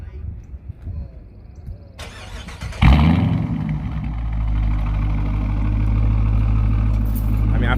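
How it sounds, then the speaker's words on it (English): A Dodge Challenger T/A V8 fires up from a warm start: a sharp crank and catch, then a loud, deep exhaust rumble that settles into a steady, heavy idle close by, after faint talk beforehand. "these both are going to be warm starts on this exhaust sound. And now I'm gonna let you hear mine."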